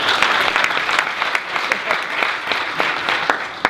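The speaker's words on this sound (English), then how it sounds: "Give them a round of applause here." Audience applause at a talk on high performers, a full round of continuous clapping from many people with sharper individual claps standing out, loud and sustained, with faint voices underneath.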